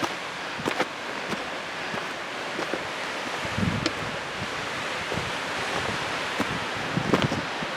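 Strong wind gusts across the rocky Sourdough Gap ridgeline, a continuous rushing roar buffeting the microphone with louder bursts now and then, and no voices.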